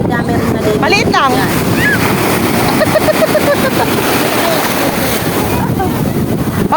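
Sea waves wash at a beach under steady wind buffeting the microphone, with a continuous broadband roar throughout and a few brief voices and chirpy sounds over it.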